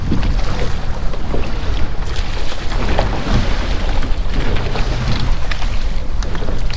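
A sailboat under way on open offshore water, with steady rushing wind buffeting the microphone and constant splashing water along the hull.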